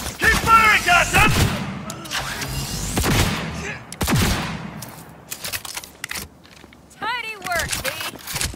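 Gunfire in Cyberpunk 2077 comes in loud, bursting volleys of rapid shots with echoing blasts in between. Game characters shout and talk over and between the bursts.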